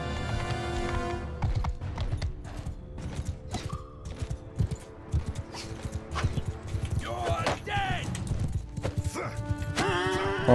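Horse hooves clip-clop in the Mount & Blade II Bannerlord video game amid a busy battle mix with creaks, clatter and other game sounds, a person talking over it.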